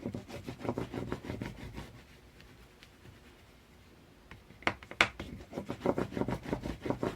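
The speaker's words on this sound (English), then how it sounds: "I'm going to burnish this side really good." A bone folder burnishes paper for a mini album with brisk rhythmic rubbing and scraping strokes, close and soft, pausing briefly before resuming in quick bursts.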